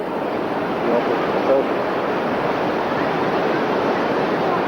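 A steady, loud roar of rushing water from Niagara Falls fills the whole clip, broad and unbroken, heard nearby.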